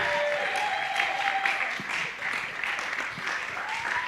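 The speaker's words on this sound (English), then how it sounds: "Let's clap for her until she gets there." An audience at a financial literacy talk at a conference applauds steadily and loudly, with a voice briefly heard over the clapping.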